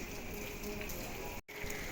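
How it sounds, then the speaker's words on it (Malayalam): Steady rain falls through the morning, a constant close patter of drops that briefly drops out before resuming. "ഇന്ന് എന്താ പറ്റിയോ രാവിലെ തൊട്ടേ മഴയാ"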